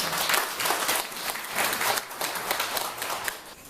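A crowd at an international forum on mathematics education applauds steadily, a dense patter of many hands clapping at moderate loudness throughout.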